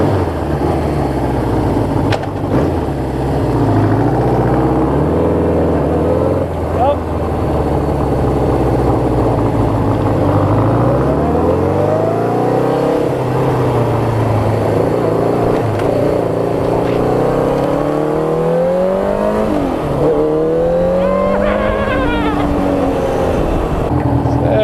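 Suzuki bobber motorcycle pulling away with a worn clutch cable, its engine droning steadily and loud, with pitch rising and falling through gear changes as it rides off.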